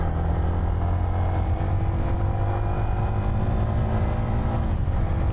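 A Yamaha Y16ZR motorcycle engine drones loud and close during a ride, a steady buzzing tone with slight rises in pitch and heavy wind rush, with no talk.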